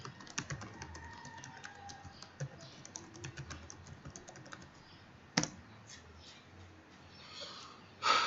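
Fairly faint typing on a computer keyboard while changing a password, irregular clicks and taps with a few louder key strikes, alone without talk.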